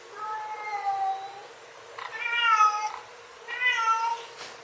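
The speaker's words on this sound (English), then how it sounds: "kitten, stop yelling." A kitten meows loudly three times, each cry long and insistent, with short pauses between them and no other sounds.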